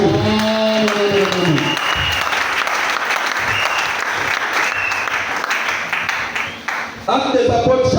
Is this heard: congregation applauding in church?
yes